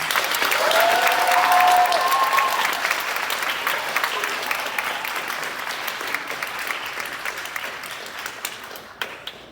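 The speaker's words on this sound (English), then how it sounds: "Let's give them all another big round of applause." Audience at a sustainability fashion showcase applauding, a dense sustained round of clapping with some cheering, loud at first and gradually thinning and fading out over several seconds.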